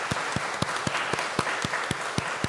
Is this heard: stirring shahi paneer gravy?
no